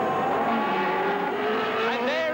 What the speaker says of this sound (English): Rosenberg goes through on the last lap, accelerates away up to Druids again.